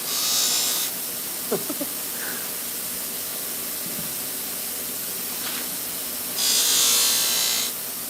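A buffing wheel loaded with compound runs against knife edges during finishing. Two bursts of loud hissing whir, at the start and near the end, frame a quieter stretch with a few light taps and scrapes.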